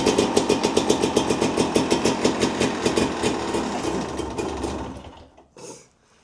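A Honda CRM 250 AR project motorcycle with a manual choke and fuel tap sputters to life, its engine pulsing in a quick, even rhythm close by before faltering and cutting out near the end.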